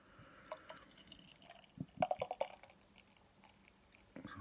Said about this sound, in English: let's get this pale ale out of the can and into a glass